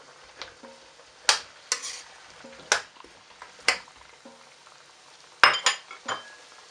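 Okra is added to a pot of pinakbet cooking with pumpkin, giving scattered sharp clinks and knocks of a utensil against the pot, several distinct taps spread out over a faint low simmer, with no talking.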